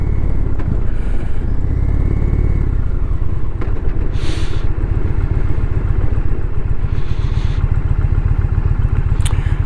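An Indian motorcycle rides along with a steady, loud engine rumble and dense rhythmic pulsing throughout, plus faint higher swishes of passing air or traffic.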